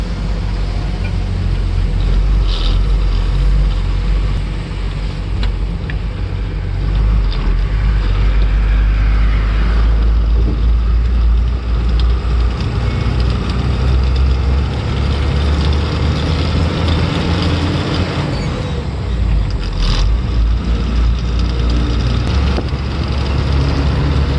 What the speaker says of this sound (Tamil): எவ்வளோ பெரிய கிரேன் எடுத்துகிட்டு வருது வண்டி